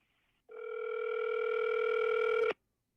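A steady electronic tone with a few stacked harmonics plays on a telephone line while on hold during a call to a county DSS office, starting abruptly after a short silence and holding level for about two seconds before cutting off.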